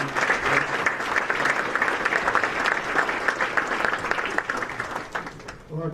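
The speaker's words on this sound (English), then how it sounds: "Give him one more round of applause" Audience applause fills a banquet hall at a college baseball first-pitch dinner, a steady, dense clapping that runs for several seconds before tapering off near the end.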